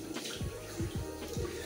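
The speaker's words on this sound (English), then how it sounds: "I'm gonna wash my face, put some water on my face just to" Water splashed onto a face by hand at a sink before a shave, a few quick wet splashes in a row, close and fairly soft, with no talking.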